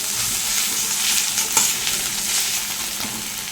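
Ginger stirred and fried in a pan for a Bengali pabda fish curry, a steady close sizzle with scraping stir strokes and a few sharper clicks of the spoon.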